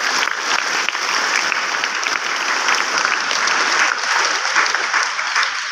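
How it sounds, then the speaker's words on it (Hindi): Sustained, loud applause from a school audience at a principal's farewell function, a dense wash of clapping that stays even and unbroken throughout. "एक बार फिर से तालियां।"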